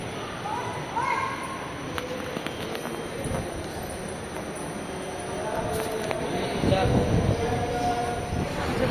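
A funicular train climbs slowly up a hill toward a hilltop temple, giving a steady rumble with faint wheel squeals and rattles that grow louder toward the end, with people talking in the background.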